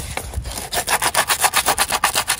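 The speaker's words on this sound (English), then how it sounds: "And then I'm gonna sand this right here down a little bit" A metal trailer tongue being sanded by hand before an electric jack is fitted, with a close, steady back-and-forth rasping in about a dozen rhythmic strokes after a brief start.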